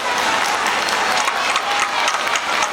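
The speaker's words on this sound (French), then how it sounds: "Applaudissez pour nos enfants." Loud, dense applause from an audience cheering children at the inauguration of a digital classroom, sustained clapping filling the whole stretch.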